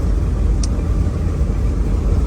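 A 40-foot motor coach cruising down the highway at about 65 mph, heard from inside as a steady, loud low rumble of engine and road noise that holds constant throughout without talking.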